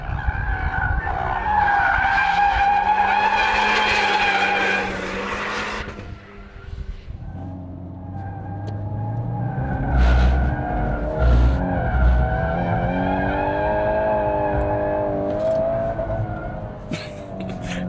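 A Volkswagen Golf R is driven hard, its tires squealing loudly through a long skid while the engine strains close by, then easing into a steadier engine drone with further bursts of tire noise.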